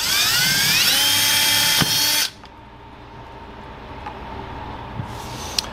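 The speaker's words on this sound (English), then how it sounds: "now we're gonna drill with a 3/16 inch drill bit into that half inch" A power drill with a 3/16 inch bit bores into half-inch PVC pipe, loud and close with a steady high whine for about two seconds. It then stops abruptly, and a brief faint burst follows near the end.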